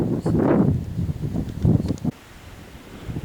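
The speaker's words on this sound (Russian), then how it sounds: "Холодный ветер." Cold wind off the Sea of Okhotsk, on Sakhalin's east coast, roars and gusts past the microphone in heavy bursts, then settles into a steadier, quieter rush of open-air noise.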